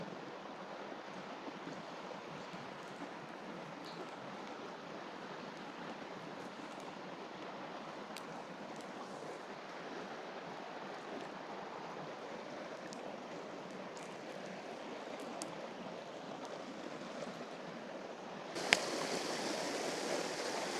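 Running water flows beside a small twig campfire outdoors in Norway. The steady, fairly quiet wash of water fills the scene, with a few faint scattered crackles and a brighter rush near the end.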